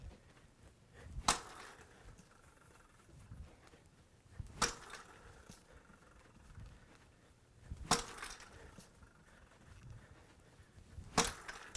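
Tennis racket striking balls with a Roger Federer-style forehand: four sharp, crisp impacts spaced a few seconds apart, each a single loud crack over quiet background.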